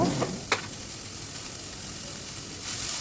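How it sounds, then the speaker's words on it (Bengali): Finely chopped onions frying in hot oil for a hilsa fish curry make a loud, steady sizzle, close up, opening with a couple of quick clinks or stirs and then a continuous bright hiss with no voices. "পেঁয়াজগুলো ভাজতে থাকুক"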